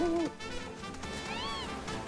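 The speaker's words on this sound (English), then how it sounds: "Why did I hear an owl noise?" An owl hoots once in the video game Final Fantasy VII Rebirth, a short, clear hoot at the start followed by faint, warbling game sounds in the background.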